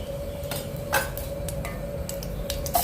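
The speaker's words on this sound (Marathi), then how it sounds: "फोडणीसाठी आपण तेलामध्ये राई जिरं घालणार आहोत" Mustard and cumin seeds crackle in hot oil, a run of sharp scattered pops and ticks over a steady low hum, close and fairly loud with no talking.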